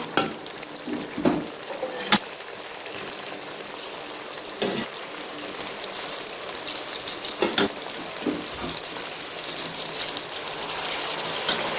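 Beef browning in a spice masala for Afghani Kabuli pulao, sizzling and crackling steadily at close range with occasional louder stirring scrapes, no voices.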